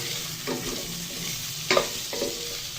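Garlic, ginger and onion sauté in a pan for chicken tinola, a steady close sizzle with a few scraping stirs and one sharper clatter, without speech.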